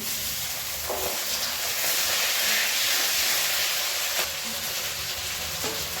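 Tomatoes hit hot oil with fried ginger and garlic paste, giving a steady, loud, close sizzle and hiss broken by a few sharp crackles.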